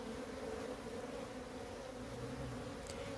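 Honey bees buzz steadily at a hive, a continuous dense drone from many insects at moderate level with no voices.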